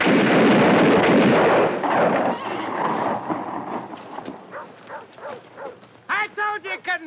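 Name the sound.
rifle volley fired on command in western film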